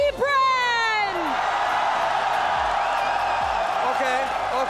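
Fans in a large arena crowd cheer and whoop loudly for Falcons AP Bren at the Mobile Legends: Bang Bang Mid Season Cup 2024 grand finals, a sustained roar with shouting rising over it while an announcer's voice carries through.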